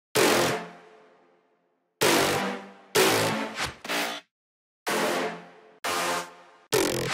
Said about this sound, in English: Add different growls in the beginning of every bar.